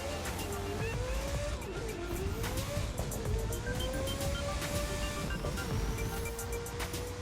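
Racing game car in The Crew 2 holding a steady engine drone with a rising and falling pitch as nitrous is held through a launch, loud and continuous throughout with no talk over it.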